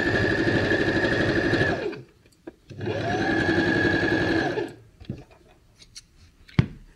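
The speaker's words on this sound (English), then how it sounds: "it's so much easier stitching the hem like this than it is trying to" A sewing machine stitches the curved hem of a doll's tunic in two steady bursts, each lasting about two seconds, separated by a short pause, with light clicks and a sharp tap afterward.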